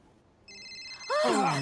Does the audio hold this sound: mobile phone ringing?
yes